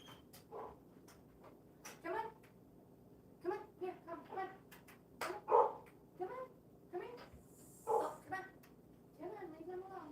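A dog barks repeatedly, a series of sharp yips and barks spaced irregularly over several seconds, moderately near and clear against a quiet indoor background with a low steady hum.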